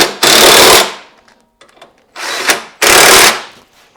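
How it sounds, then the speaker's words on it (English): Power tool tightening bolts at the pillion peg mounts of a Yamaha T7 factory pannier rack: two long loud bursts plus a shorter one, with faint clicks and handling between them. "I'm going to tighten the bolts down at the pillion peg locations"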